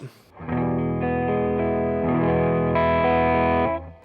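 Electric guitar on the neck pickup driven through a Klon-style overdrive, a warm, sustained chord ringing out loud and close for several seconds before fading, with a slight swell partway through.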